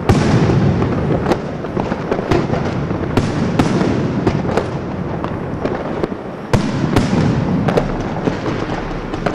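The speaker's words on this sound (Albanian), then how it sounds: "ishte ora 12:00, hedhja fishek zjarreve" New Year fireworks burst at midnight over a city with empty streets, a dense, continuous crackle broken by repeated sharp bangs, loud and sustained without voices.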